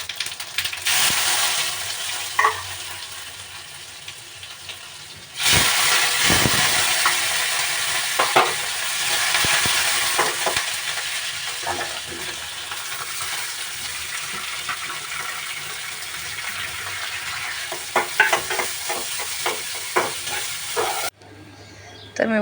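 Cumin and mustard seeds fry in hot oil in a home kitchen pan, a continuous close sizzle and crackle with stirring scrapes and a sharp jump in loudness partway through, no talking.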